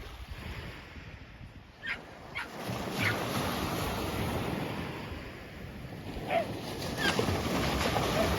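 Ocean surf rolls in a steady roar with wind buffeting the microphone, the wash swelling and easing with no voices.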